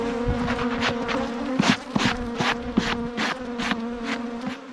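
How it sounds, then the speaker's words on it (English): A swarm of agitated bees at an opened hive buzzes loudly and steadily close by, a dense droning hum with sharper passes and bumps over it, no voices. "These bees are trying to eat me up."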